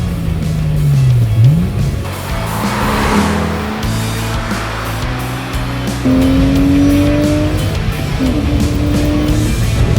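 A Porsche engine revs hard at high RPM, loud and close, its pitch sweeping up and down through repeated climbs with a brief tire squeal, running steadily throughout.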